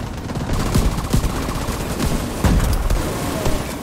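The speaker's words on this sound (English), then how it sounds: "You missed all your bullets and shot lit up that tree." Rapid video game gunfire rattles in dense, overlapping bursts, loud and continuous, with sharper individual shots popping through the sustained barrage.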